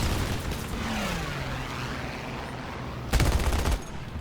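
P-38 gun pods firing in War Thunder, a short loud burst of rapid gunfire breaking through a steady drone of aircraft engine noise.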